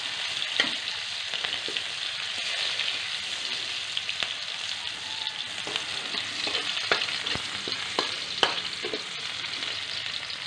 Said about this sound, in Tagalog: Gigisa ko na po yung adobong pusit sa kamatis.